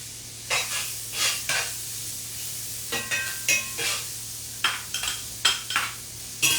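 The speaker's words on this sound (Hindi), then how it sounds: "अब इसमें ये बारीक कटे हुए प्याज मैं डाल दूंगी" Finely chopped onions go into a hot pan for pav bhaji, sizzling and hissing while a spoon scrapes and stirs in short bursts against the metal, close and fairly loud, with no talk.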